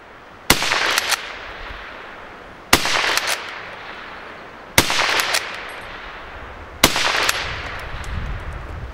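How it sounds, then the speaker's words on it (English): Four loud, separate rifle shots from a Mk I* Magazine Lee-Enfield, each a sharp, close crack with a short echoing tail. The shots come at steady intervals of about two seconds, with no talking. "the first 10 rounds went downrange smoothly"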